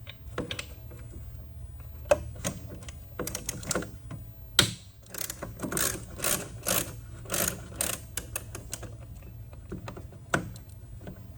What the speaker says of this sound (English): We're going to remove those bolts to